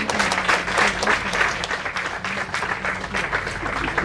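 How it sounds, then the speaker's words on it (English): At a Women's Day celebration, an audience breaks into steady, dense applause. Many hands clap together for about four seconds at an even level, with no pause or build. "a big round of applause"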